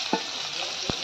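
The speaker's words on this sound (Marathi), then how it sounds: "आता मी कांदा टाकून घेते चिरलेला मैत्रिणींनो" Chopped onion sizzling steadily in hot oil for a mushroom masala, a continuous frying hiss with two brief stirring knocks, close and alone.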